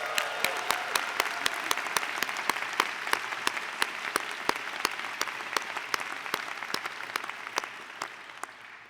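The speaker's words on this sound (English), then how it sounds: "Let's give them a round of applause." A commencement audience at the Tufts University School of Medicine 2024 ceremony applauds steadily, a dense, sustained wash of clapping with sharper individual claps standing out throughout.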